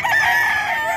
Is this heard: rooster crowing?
yes